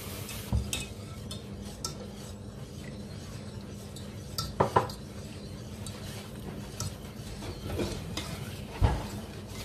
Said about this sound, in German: Und dann mit einem Quirl oder einem Schneebesen verrühren.